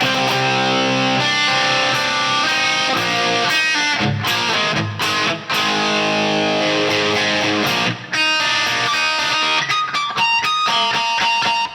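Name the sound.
electric guitar harmonics riff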